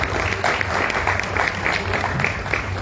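An audience applauds at an editorial book presentation, a steady sustained wash of clapping, fairly close and even, with no talk over it.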